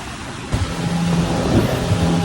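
Sea waves wash ashore at Boracay beach in steady wind, a constant broadband rush with a few soft surges and no voices.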